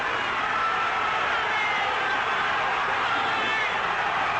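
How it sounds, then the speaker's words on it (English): A crowd at the 1972 World's Wristwrestling Championship roars steadily, a dense, continuous wash of cheering and shouting with no breaks. "This crowd is going crazy."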